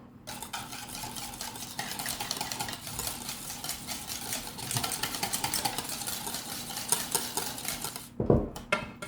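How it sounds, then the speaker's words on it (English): Dressing for a North German mayonnaise potato salad, made with cucumber water, being whisked briskly in a bowl: a steady, rapid scraping and clinking for about eight seconds, ending with a short knock. "Now I whisk this all together."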